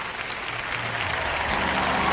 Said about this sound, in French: On m'applaudit beaucoup ce soir